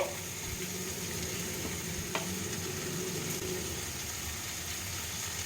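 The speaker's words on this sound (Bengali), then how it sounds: "আবার একটু নাড়াচাড়া করে" Prawns frying in a pan with curry leaves for a spicy prawn fry, a steady close sizzle with light stirring scrapes and one brief clink, with no voices.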